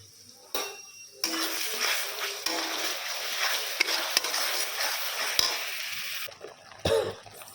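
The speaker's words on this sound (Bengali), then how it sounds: "এখন আমি তেলে দিয়ে দেবো।" Prawns hit hot oil in a pan and set off a loud, steady broadband sizzle that holds for about five seconds, with a few faint clinks, before it quickly dies away.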